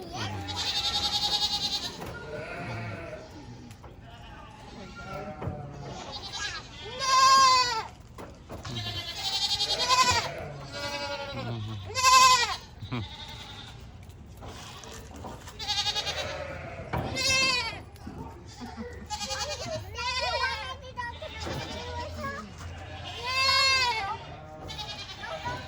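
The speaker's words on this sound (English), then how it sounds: "Another side of the goats over here" Goats at a Pigeon Forge rain forest animal attraction bleat again and again for about 25 seconds, some calls loud and close and others softer, with faint voices now and then.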